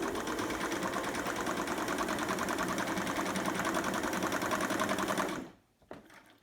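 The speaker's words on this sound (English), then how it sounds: "I'll go back to the straight stitch and show you the reverse." A reconditioned vintage Singer Stylist 513 sewing machine runs a continuous straight stitch in reverse, a close, even mechanical whir and rapid ticking that holds steady for about five seconds before stopping abruptly.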